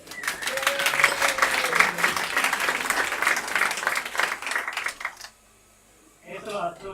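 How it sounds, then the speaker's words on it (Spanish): Audience applause at a PechaKucha Halloween night, dense steady clapping from a room full of people for about five seconds, then a sudden stop into near silence before a voice resumes. "Por favor, un aplauso para Joni."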